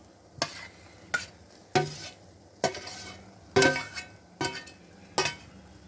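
An egg being added to a mixture and stirred in a bowl, heard as seven separate scraping, clinking strokes with short pauses between them, close and fairly loud with no talking.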